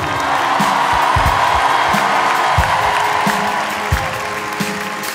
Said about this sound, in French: C'est surtout vous qu'on doit applaudir. Donc applaudissez-vous et dans le chat aussi, applaudissez-vous.